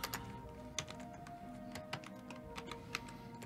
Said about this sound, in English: Let's see if I can work this keyboard thing.